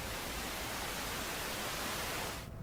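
Steady, broadband hiss of white noise holds evenly for a couple of seconds, then cuts off abruptly into near silence.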